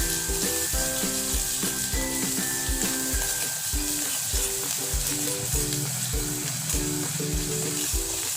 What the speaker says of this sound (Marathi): त्यामध्ये आपण ही पेस्ट टाकून घेऊया। पेस्ट सुद्धा आपल्याला छान भाजून घ्यायची आहे।